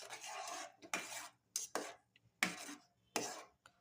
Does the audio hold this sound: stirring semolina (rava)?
yes